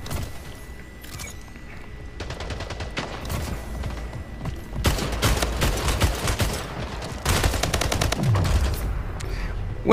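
Automatic weapon fire in the video game Splitgate, several rapid bursts of shots separated by short pauses, loud and close, with footsteps and clatter between volleys.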